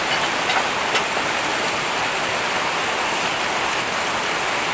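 Steady rain falls on a farm on a cloudy day, a dense, even hiss of drops that holds constant and close throughout with no voices.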